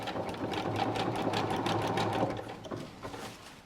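A sewing machine stitches fabric for a toilet hammock, running in a close, steady mechanical whir that slows and softens near the end.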